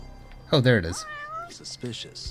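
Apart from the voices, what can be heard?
cat meowing in the video game Judgment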